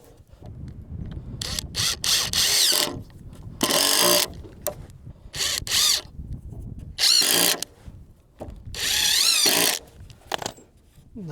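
A power drill drives a screw into a metal bracket for securing 4x4 posts, with several separate close, loud bursts of whirring separated by short pauses.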